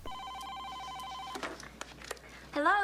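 A telephone rings in a 1989 comedy film, a steady electronic trill of repeated bursts filling the first second and a half, followed by brief rustles and a voice starting to speak.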